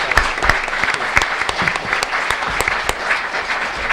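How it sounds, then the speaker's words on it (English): Audience applause for the speakers at a law ethics event, loud and full with dense overlapping claps and a few sharper close ones standing out, continuing throughout without talk. "join me in a round of applause to all of our speakers for today"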